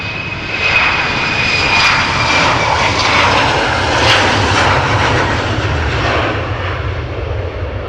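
Jet engines of an Embraer 195 airliner at Schiphol Airport give a steady, loud, broadband roar with a thin whine, holding nearly constant for the whole stretch without speech.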